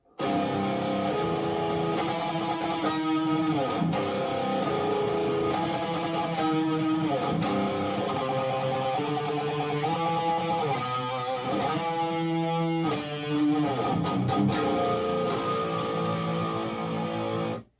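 A guitar plays a chorus riff slowly, with sustained, layered chords, steady and fairly loud throughout, with no talking.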